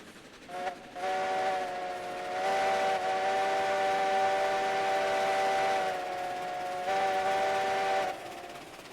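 A long, loud steam locomotive whistle in the video game Railroads Online, with a rich chord-like tone, blows for several seconds, briefly dips and swells, then cuts off.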